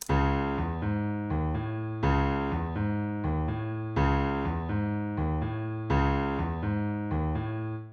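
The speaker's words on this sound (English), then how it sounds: "you're gonna hear the raw sounds and the piano sounds like this" A deep, bass-heavy piano plays a repeating pattern of chords, each struck firmly and left to decay, looping steadily with no voices.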